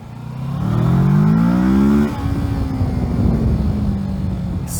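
A 2018 Kawasaki Versys 650 engine revs loud and close, climbing fast to high RPM and holding there, then dropping to a steady lower drone that carries on to the end.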